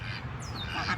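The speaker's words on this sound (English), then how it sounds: "That's the Drake, you can hear him." A male duck's raspy quack sounds close and fairly loud over continuous background noise, one short call within a busy outdoor setting.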